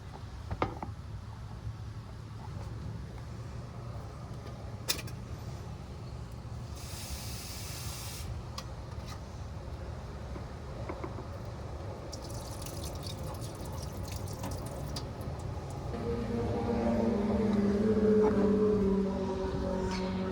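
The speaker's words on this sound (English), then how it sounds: "And then let's rinse the beans." Water runs steadily with a soft hiss and light dripping as beans are rinsed. It swells into a louder, fuller gush near the end. No one speaks.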